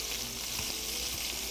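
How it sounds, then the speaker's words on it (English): Chicken thighs fry in a hot pan with a steady, even sizzle. Faint scattered pops and crackles sit under the sizzle. "If you don't hear the sizzle, your dish is sure to fizzle."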